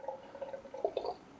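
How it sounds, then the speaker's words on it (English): Homemade Italian amaro liqueur poured to top up a bottle, a faint brief trickle with a few gurgling drips near the end. "Let's get the next one filled."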